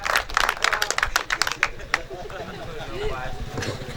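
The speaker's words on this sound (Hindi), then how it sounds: "भाई सुभाष जगदलपुरिया जी एक बार और ताली से सम्मानित किया जाए" Audience clapping at a Hindi poetry gathering (kavi sammelan), a burst of lively applause for about two seconds that tapers off into scattered claps as a voice starts speaking.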